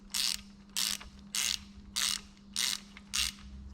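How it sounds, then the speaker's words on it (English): Torque wrench ratcheting as bolts are tightened to 30 Nm on a 750 BHP Cupra engine, six evenly spaced bursts of crisp clicking, close and loud, with a steady low hum underneath. "So we've got our little torque wrench"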